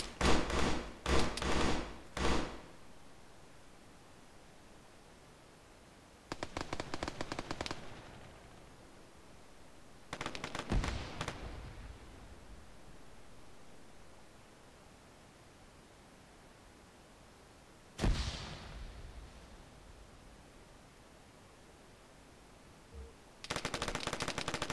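Automatic gunfire from the video game Arma 3 during a competitive capture-the-flag match: five separate loud, rapid bursts of shots with quiet stretches between them and no talking.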